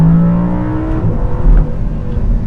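An Audi R8 V10 Plus engine pulls hard on a small mountain road, a loud close engine note with rising then shifting tones and rough low rumble as it accelerates to high rpm.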